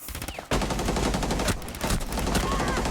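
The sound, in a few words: gunfire in video game Rainbow Six Siege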